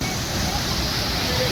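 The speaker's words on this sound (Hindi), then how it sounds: "ये आ गया मनेरी डैम और मानव निर्मित झरना जो गंगोत्री नेशनल हाईवे के बिल्कुल सामने है" A man-made waterfall of water released from Maneri Dam beside the Gangotri highway in Uttarkashi roars in a steady broadband rush, continuous and close, with faint voices mixed into the noise.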